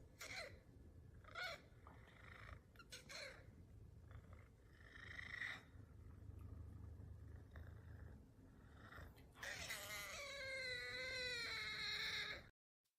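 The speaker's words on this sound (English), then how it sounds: "If you can hear that creepy meowing" Boiling water pours steadily into a food bag with a full, gurgling rush, close and continuous for a moment, no voices.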